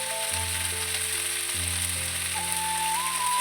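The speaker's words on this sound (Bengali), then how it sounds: "তারপর নুন হলুদ দিয়ে ওগুলোকে ভাজতে থাকলাম।" Vegetables frying in a pan with salt and turmeric give a steady, close sizzle throughout, with a low tonal hum running underneath and no talking.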